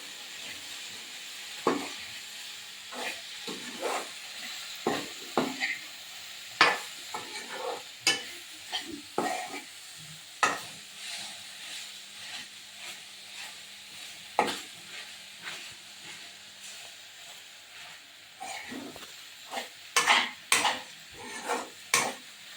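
A tomato, eggplant and dry prawn curry fries in a pan under a soft, low sizzle, with frequent irregular spoon scrapes and taps against the metal, quiet and close.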